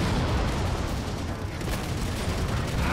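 Halo 4 campaign gunfire roars as a dense, continuous barrage of shots and explosions, loud and close, with a player's voice mixed in.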